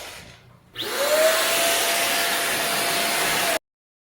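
Deerma handheld vacuum cleaner switching on after a short quiet moment, its motor rising quickly into a loud, steady whine with a broad airy rush, running close by and then cutting off abruptly.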